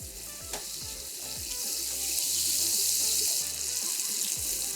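Arla unsalted butter sizzling in a hot pan, a steady crackling fry that grows a little louder midway, with faint scraping and clinks underneath.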